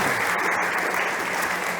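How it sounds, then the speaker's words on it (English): An audience at a startup competition stage applauds a fintech presenter, a loud, dense, sustained roar of many hands clapping that stays even from start to finish. "then big applause to Mihai"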